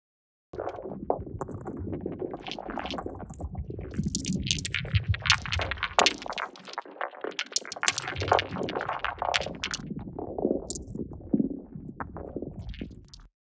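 Pebble clatter granulated into a dense, continuous crackling texture of overlapping tiny clicks and grainy rumble, sustained for over twelve seconds at steady moderate level with no voices.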